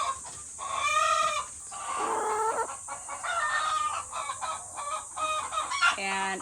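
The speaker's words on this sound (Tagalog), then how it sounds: "Si hen tsaka si rooster." A hen and a rooster in a cage, clucking loudly and close, while the rooster lets out a crow between runs of busy chicken calls; a person speaks briefly amid the birds.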